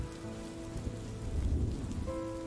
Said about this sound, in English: It sounds like somebody actually went through the effort of recording footsteps in the rain.